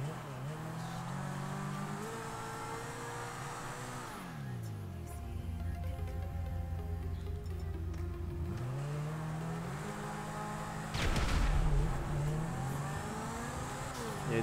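Engine of the Zentorno sports car in the video game GTA 5 revs and holds a steady drone, sweeping down and back up in pitch twice, with a sharp louder burst near the end.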